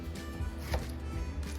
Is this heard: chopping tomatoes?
yes